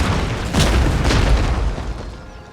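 Cannon fire in Empire: Total War, a couple of heavy booms aimed at a distant general, loud and close with deep rumbling tails that fade out over a couple of seconds.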